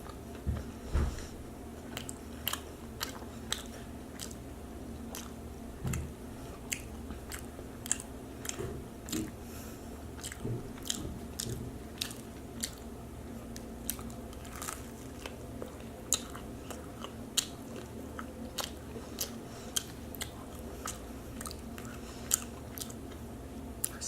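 Someone chews a low-carb breakfast taco close to the microphone, with soft repeated crunchy bites and wet chewing throughout. A faint steady background hum sits underneath.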